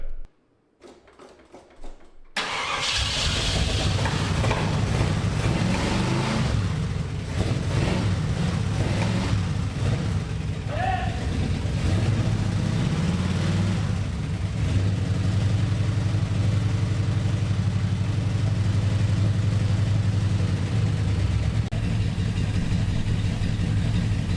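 A Jeep Grand Wagoneer engine, seized and left sitting for years, catches on a starter after a brief quiet start, then runs continuously and loudly with a steady low rumble and a rough, uneven idle.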